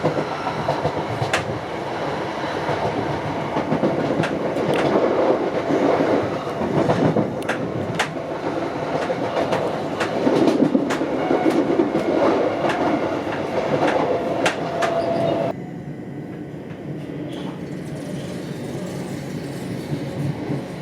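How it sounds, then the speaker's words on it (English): A train runs along the Great Western Main Line between Reading and London Paddington, with steady clattering wheel and rail noise and faint squeals, then a sudden drop to a quieter hum near the end. "surprise, there's a train."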